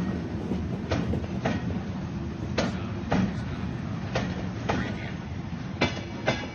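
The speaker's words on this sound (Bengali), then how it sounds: "সন্ধ্যার দিকে ট্রেন হাওড়ায় এসে পৌঁছল।" A train runs steadily along rails with repeated clickety-clack wheel beats over track joints, a continuous rumble beneath them and no talk.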